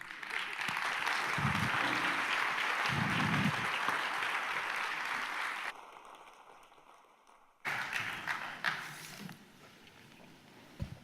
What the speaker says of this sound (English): 20 seconds of applause, just 20 seconds